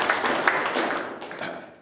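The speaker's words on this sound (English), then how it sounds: "give him a round of applause" A seated audience in a management communication training session claps in a brief round of applause, a dense, fairly loud patter of many hands that fades slightly toward the end, with no voices over it.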